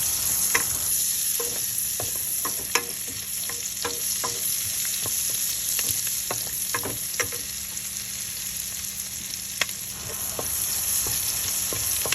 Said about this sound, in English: I have to leave a little bit of oil to fry the garlic and the onion